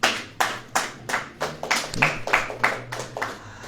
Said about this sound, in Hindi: ताली बजेगी कि नहीं?